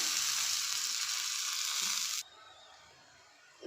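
Bottle gourd dhapate flatbread fries in a little oil on a hot pan, giving a loud, steady close-up sizzle that cuts off abruptly after about two seconds, leaving a quieter background.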